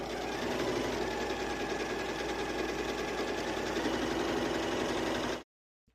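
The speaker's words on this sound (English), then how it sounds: "I'm probably just going to stitch it down" A sewing machine stitching down a pleat in fabric, running steadily with a fast even mechanical whir and rattle at moderate level for about five seconds, then stopping abruptly.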